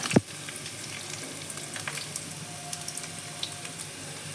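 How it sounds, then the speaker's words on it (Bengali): Potatoes fry in oil in a pan with a steady close sizzle, a sharp clatter at the start and scattered soft stirring clicks throughout, no talking. "এইভাবে আস্তে আস্তে করে আলুগুলো ভেজে নেব"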